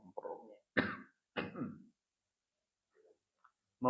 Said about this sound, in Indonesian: Batuk nggak bisa diajak kompromi.